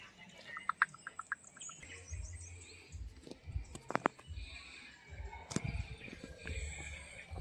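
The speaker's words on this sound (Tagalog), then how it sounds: "Daming ibon." Several birds chirp and tweet in short, scattered calls over a quiet outdoor background at Eden Nature Park in Davao City, with a few sharper close calls standing out.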